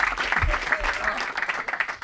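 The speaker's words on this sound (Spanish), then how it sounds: "un aplauso para este muchacho" Audience applause for a volunteer on a Spanish comedy show, a steady burst of clapping throughout with speech-like sounds mixed in.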